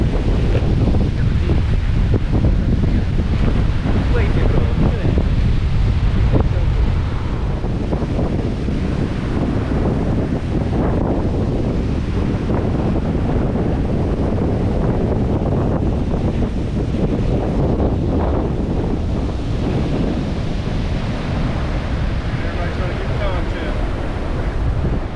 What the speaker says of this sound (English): I'm probably gonna be able to hear nothing because the wind's so crazy